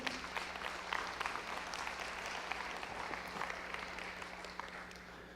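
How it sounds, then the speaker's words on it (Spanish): During a Spanish-language church sermon, the congregation breaks into steady, continuous clapping that holds evenly throughout, dense but somewhat distant and quiet, with a low hum running beneath. "Denle un fuerte aplauso al Señor."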